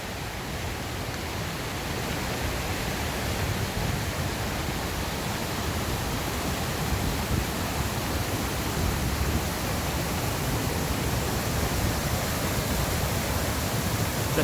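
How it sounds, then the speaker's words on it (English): Fountains at the World War II Memorial in Washington DC pour and splash in a broad, steady rush of water, loud and unbroken from start to end with no voices over it. "And so we have some more fountains."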